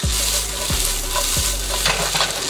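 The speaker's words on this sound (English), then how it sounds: "Now we have color, we're gonna add our shallots that Jamal prepared earlier." Shallots hitting a hot buttered pan while making ricotta gnocchi give a steady, loud sizzle, broken by a few firm scraping stir strokes at regular intervals.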